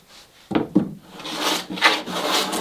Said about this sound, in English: I'll finish up with a sanding block